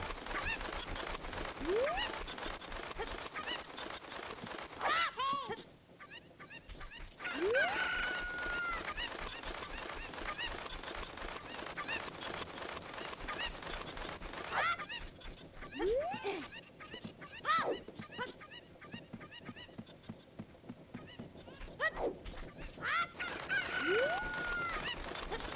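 Several chickens in the game Ocarina of Time give repeated sharp squawks and clucks, spaced every few seconds over steady game sounds and music, with no voices.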